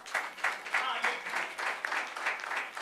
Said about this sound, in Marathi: टाळ्या वाजवून त्याचा गौरव करा